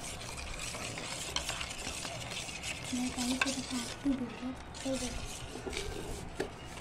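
A spoon scrapes and swirls steadily through a glucose and powdered sugar mixture, giving soft rhythmic stirring with occasional clinks against the pot, and a quiet voice speaks over it.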